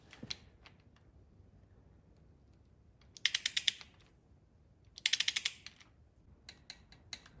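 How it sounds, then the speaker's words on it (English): A torque gun tightens bolts on a Chevy small block 350 engine, giving short bursts of rapid clicking ratchets, quiet and close, separated by pauses with a few scattered taps. "we'll set the torque gun up and get this torqued"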